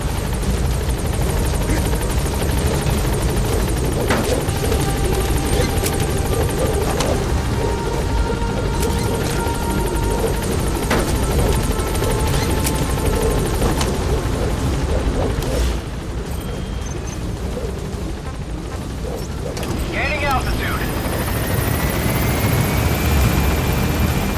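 A helicopter in the video game Metal Gear Solid V drones loudly and continuously with heavy rotor thrum and engine whine, swelling and easing slightly over about twenty seconds.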